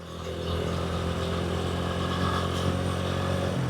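A freshly oil-changed motorbike rides along on a warm day, its engine note steady and close throughout, running alone with no talk.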